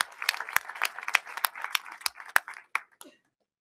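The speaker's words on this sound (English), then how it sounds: "So if we could just do a quick round of applause for her." A quick round of applause at a school board meeting, a room of people clapping briskly for a few seconds, fairly close and loud, then tapering off into silence.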